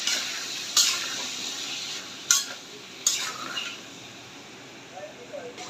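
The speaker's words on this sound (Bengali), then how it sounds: "এখন আলু বিচিগুলো ভেজে নিই" Jackfruit seeds and potatoes frying in oil for a beef curry, with a quiet, steady hiss and a few sharp spatula knocks against the pan.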